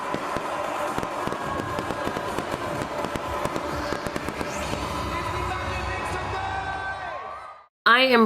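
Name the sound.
fireworks display at sea on Disney cruise Pirate Night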